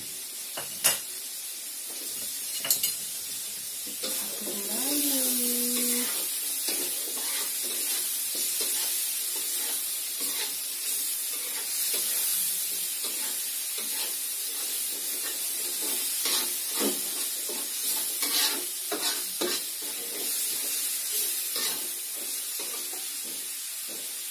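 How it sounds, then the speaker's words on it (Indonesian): Spices with ginger, lemongrass and galangal sizzle steadily in a pan while being stirred, a continuous hiss with occasional scraping taps and a brief tonal squeak, close and moderately quiet, with no talking. "bumbunya saya aduk lagi kalau udah harum"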